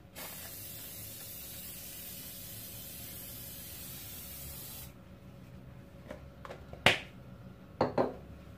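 Cooking spray hisses into cake molds in one steady burst of about five seconds, followed by a few brief clicks and taps from handling the can and pan.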